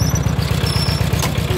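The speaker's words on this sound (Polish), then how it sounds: "Vlog z dźwiękiem silnika." An Ursus C330 tractor engine runs steadily nearby, a loud low rhythmic throb with quick even pulses and no talking.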